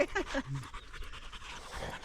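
Dogs pant steadily and rapidly nearby on a spring countryside walk in Lithuania, with a brief voice at the start and soft outdoor background throughout.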